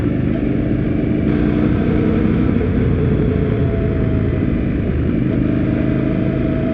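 An Indian Scout Bobber motorcycle engine runs steadily near at hand, a mild, subdued exhaust rumble at a constant idle-like pace with no pauses, alone without voices.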